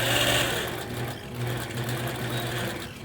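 A long-arm quilting machine runs steadily, stitching around squares with a hand-sketched running stitch, giving a continuous close mechanical hum with a rhythmic low throb and no talking.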